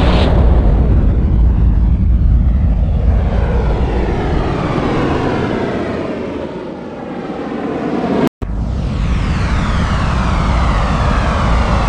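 Fighter jets scrambling in the PlayStation game The Raven Project, a loud roaring engine rush that swells and fades, cut by a brief dropout, then a rising whine of another jet passing.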